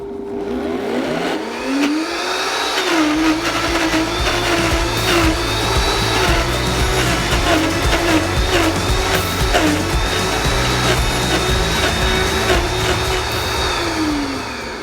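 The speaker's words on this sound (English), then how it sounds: "As soon as I turn it on, I'm gonna put it straight up to 10 or high speed and blend for about 30 seconds." A Vitamix blender run straight up to high speed, churning a vegan mint choc chip ice cream mix: a loud, steady whirring motor with a rising pitch at start-up, continuous and close for about fifteen seconds with no talk.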